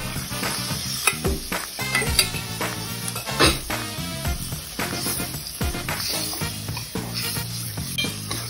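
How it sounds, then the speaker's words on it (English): Scrambled egg for a hawker's omelette, seasoned with fish sauce, sizzles steadily in a hot pan while a utensil stirs and scrapes against the metal with irregular clinks. "We put in our scrambled egg."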